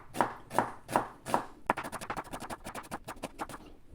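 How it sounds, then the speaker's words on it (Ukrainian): A knife thinly slicing onion on a cutting board: a few slower, heavier chops give way to a rapid, steady run of light, close taps, with no talking. "стараюсь тоненько нарізати цибульку, тоді вона краще промариновується"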